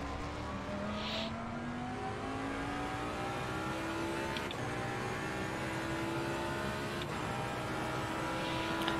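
A racing car engine in the video game Assetto Corsa Competizione drones continuously at high revs, its pitch climbing steadily through gear changes, with a steady roar and no talking.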